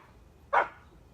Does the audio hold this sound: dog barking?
yes